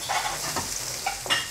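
Onion sautés for Cebu-style pancit canton in a pan, a soft steady sizzle broken by a few scraping stirs, heard close and fairly quiet with no voices.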